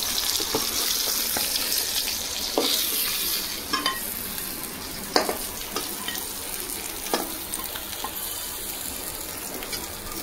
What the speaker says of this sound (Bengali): এইভাবে বাকি মাছ ভেজে নেব।